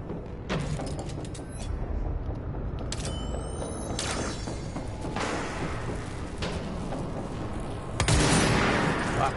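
Gunfire from snipers in the video game Control, heard as scattered sharp shots and bursts over a dense, continuous game soundscape, with a louder blast near the end.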